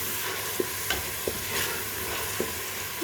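Spoonfuls of cumin and crushed chili stirred into daal frying in a pan, a steady close sizzle broken by several sharp scrapes and clinks of the spoon against the pot.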